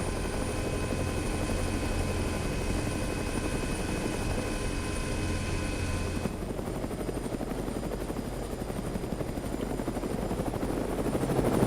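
A helicopter in the ArmA 3 video game comes in to land, its rotor chop and turbine whine droning loud and steady throughout with no break.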